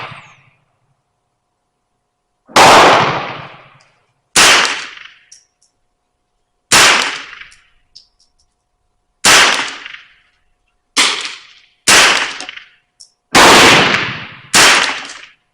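Eight sharp, loud rifle shots from a Remington Nylon 66 with a replacement barrel at an outdoor range, fired at 50 yards, each crack standing alone with silence between shots.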